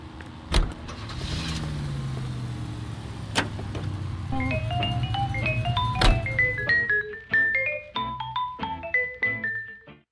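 A car in the 1940s Los Angeles crime game L.A. Noire idles and rolls with a low engine rumble, broken by a few sharp clunks and a rising, tinkling run of music near the end.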